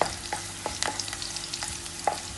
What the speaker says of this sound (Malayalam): നമ്മൾ പച്ചമുളകും കറിവേപ്പിലയും നന്നായിട്ട് ഫ്രൈ ആയിട്ടുണ്ട്